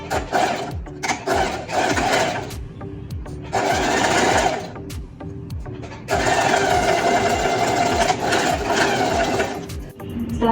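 A sewing machine stitches a fabric seam in two long, close, loud runs of fast rhythmic mechanical chatter, with a brief pause between them and a voice speaking faintly around the stitching.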